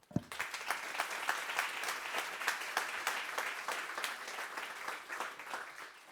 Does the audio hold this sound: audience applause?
yes